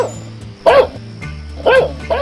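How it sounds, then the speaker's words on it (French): A dog in an animated cartoon barks three times in short, close, loud woofs, with brief pauses between them over a low background hum. "Un chien, qu'est-ce qu'il veut? Ah, il doit avoir faim."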